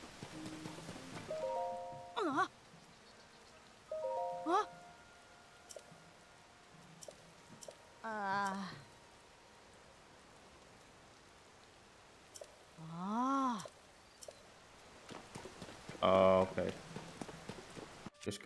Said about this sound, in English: Oh, oh, it's starting to rain.